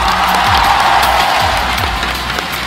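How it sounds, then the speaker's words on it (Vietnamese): A large audience at a League of Legends esports final in a packed arena applauds and cheers in a dense, steady roar of clapping and crowd noise that fades slightly toward the end. "Một tràng pháo tay nữa dành cho Minet chúng ta đi."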